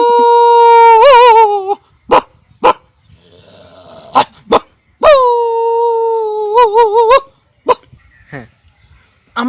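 A man imitates a big dog barking to protect a puppy, giving long whining howls, sharp separate barks and growls at close range, all loud and clearly vocal mimicry.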